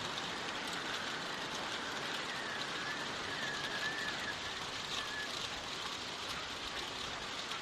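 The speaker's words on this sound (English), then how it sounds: "The rain is starting to put me to sleep a little bit." Steady rain falls in the Walking Dead Season One video game. The hiss is constant and even, fairly quiet, and runs on without a break. A faint thin whine drifts briefly through the middle.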